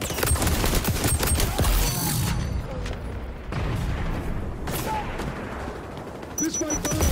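Gunfire in the XDefiant video game, dense rapid bursts of shots that are loud and close at first, ease back mid-clip, then pick up again near the end.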